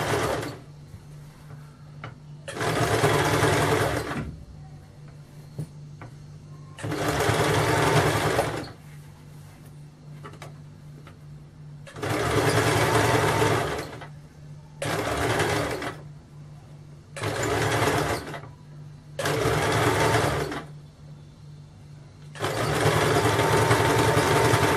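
An electric sewing machine stitches a kameez in seven bursts of rapid, steady whirring, each lasting a second or several, separated by short quiet pauses while the fabric is turned.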